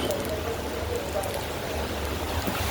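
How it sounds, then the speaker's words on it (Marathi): Rain falls steadily outside a home, a soft continuous patter with faint scattered drops at moderate distance. "हे बघा फ्रेंड्स पाऊस."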